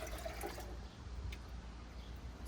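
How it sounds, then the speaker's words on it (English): Four cups of water pour steadily from a bowl into a blender holding almonds, a faint, continuous splashing wash that runs for the whole stretch without a break. "So I'm going to pour that into my blender."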